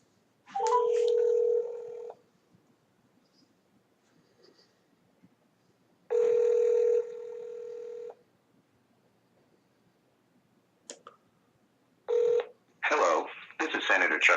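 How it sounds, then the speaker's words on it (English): Telephone keypad tones dialing a Senate office in Washington, heard as a few clean electronic tones and a ring-like tone separated by quiet, then a burst of rapid beeps near the end. "All right, dial in 202-224-6542."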